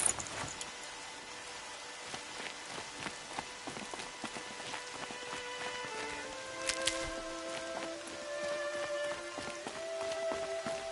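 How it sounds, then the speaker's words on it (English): Rain falls in the Horizon Zero Dawn video game, a soft steady patter with scattered droplet ticks, layered with faint tonal game sounds and occasional footstep-like thuds. "Rain's not so bad."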